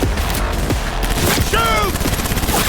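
Rapid automatic gunfire erupts in a Cyberpunk 2077 firefight, loud and dense bursts filling the scene while voices shout over the shooting.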